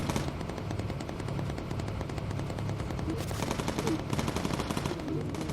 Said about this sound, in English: Good shooting, folks. Good shooting again.